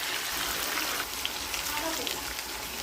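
Whole garam masala spices hitting extremely hot white oil, giving a steady broadband sizzle and crackle that runs throughout, with speech over it.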